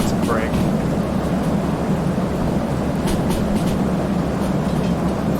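In Derail Valley, a heavy freight train rolls downhill with its brakes applied, producing a constant loud rumble and grinding roar through the whole stretch, with faint clicks and squeaks on top.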